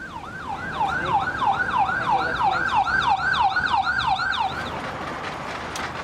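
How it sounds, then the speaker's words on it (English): An ambulance siren wails in fast repeating up-and-down sweeps at moderate distance, fading out toward the end over faint road noise. "I hear an ambulance."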